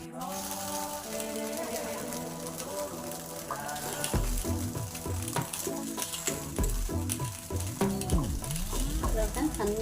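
Punugulu fritters with carrot and onion crackle in hot oil, a dense continuous sizzle with rhythmic stirring and scraping throughout, growing busier partway through.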